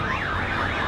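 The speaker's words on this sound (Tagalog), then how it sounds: "Grabe nag-alarm na yung sasakyan" A car alarm wails loud and close, with a steady swooping siren tone that rises and falls without pause and no voices over it.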